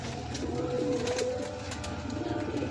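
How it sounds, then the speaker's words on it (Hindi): Salara teddy pigeon cooing softly with a low drawn-out coo over a steady background hum, close and without talk. "ये सलारा टेडी कबूतर है, इसका भी शौक है।"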